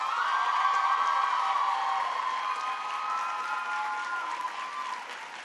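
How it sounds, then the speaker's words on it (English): A large commencement crowd at Barnard College applauds and cheers, a dense wash of clapping with sustained whoops and shouts layered on top, loud and continuous for the whole stretch. "So please give them a big round of applause."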